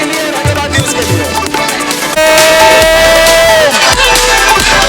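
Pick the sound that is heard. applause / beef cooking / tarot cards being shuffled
applause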